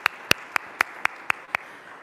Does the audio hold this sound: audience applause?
yes